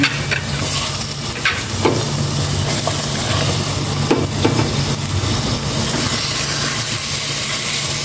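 Yellow queen fish frying in a pan: a loud, continuous close-up sizzle with occasional crackles and spatters and a low steady hum underneath.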